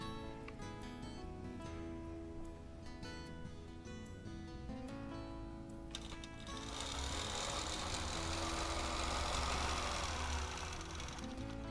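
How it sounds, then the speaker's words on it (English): A sewing machine quilting lines on a small wholecloth quilt, its rapid steady stitching hum running continuously and close, growing a bit louder and busier partway through. "make sure I'm quilting the right lines in the right places"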